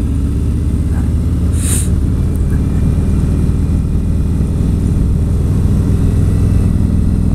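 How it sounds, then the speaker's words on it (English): A Harley-Davidson motorcycle engine braking on the road, a loud, steady low engine drone with continuous rumble and wind buffeting, no talking. "Little engine braking action."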